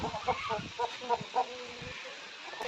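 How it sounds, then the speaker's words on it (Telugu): A fighting-breed rooster in a cage clucks in a few short, close bursts, then falls quiet against a faint background hiss. "ఇది సజ్జులో ఉంది ప్రజెంట్ కోడి పుంజు."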